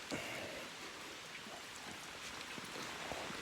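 Steady rain falls outdoors during an afternoon storm, a soft, even hiss of drops hitting surfaces nearby. It stays at a constant moderate level with no talking for about three and a half seconds.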